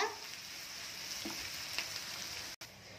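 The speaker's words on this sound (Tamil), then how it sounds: "வெங்காயத்தை சேர்த்துட்டு இது நல்லா கோல்டன் ப்ரௌன் ஆகிற வரைக்கும் நம்ம வறுத்துக்கலாம்" Onions frying in oil in a pan while cooking chicken dum biryani give a steady, even sizzle with light crackles throughout, close and unaccompanied, with one brief dropout.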